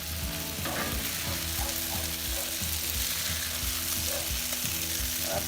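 Kung pao chicken sizzles loudly on an outdoor griddle while being mixed, a dense continuous frying hiss with scattered scraping knocks from the utensil, close up and without talk.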